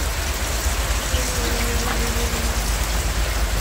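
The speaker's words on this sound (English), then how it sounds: "Look at the rain." Heavy rain pouring steadily outdoors, a dense, loud hiss of drops hitting surfaces with no letup, faint tonal hum briefly underneath.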